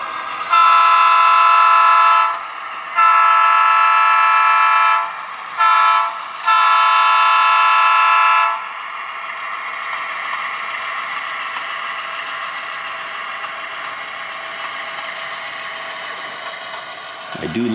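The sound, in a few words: GP9 locomotive running with horn, model railroad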